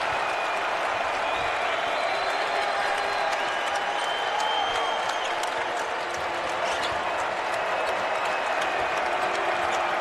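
A college basketball arena crowd roars and applauds steadily at a Drake versus Northern Iowa NCAA game. The dense, sustained cheering is punctuated by sharp ball bounces and sneaker squeaks.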